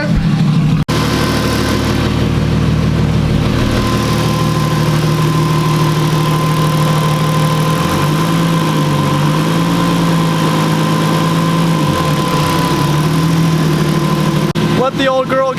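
A Nissan 240SX with a 1JZ engine running on E85 idles steadily at close range, a continuous low, throbbing rumble with a slight fluctuation in pitch partway through.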